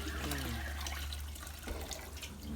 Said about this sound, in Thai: แล้วเราก็กรอง น้ำที่เราพักไว้นะกรองให้สะอาด